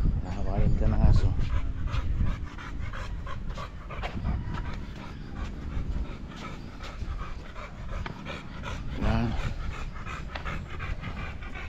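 A dog at a bar and restaurant pants rapidly and steadily at close range, with a few whimpers mixed in, while people talk nearby.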